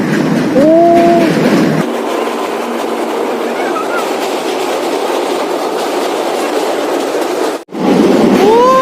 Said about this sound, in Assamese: ট্ৰেইন আহিছে